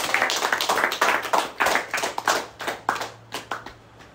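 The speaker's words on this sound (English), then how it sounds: "Lift a clap of hands to Jesus." Worshippers in a church congregation clap their hands in a quick, uneven rhythm, close and loud, with individual sharp claps standing out over a faint hum.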